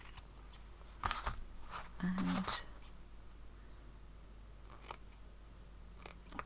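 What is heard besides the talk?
scissors cutting fabric patchwork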